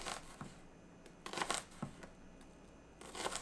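A knife chops onion on a cutting board for a tuna salad, giving a few quiet, uneven knocks and crisp cuts separated by short pauses, close by.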